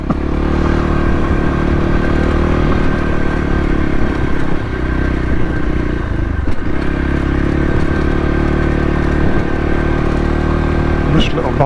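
A small off-road motorcycle chugs at low revs over bumps and stones, its engine a loud, steady drone with occasional clatter and knocks from the rough trail.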